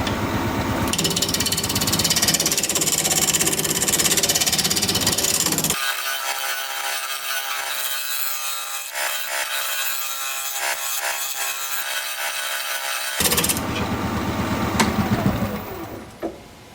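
Wood lathe spinning a fancy pedestal blank at about 1000 RPM with vibration, a loud continuous rubbing, scraping drone that thins out in the middle stretch before returning full, with no talk.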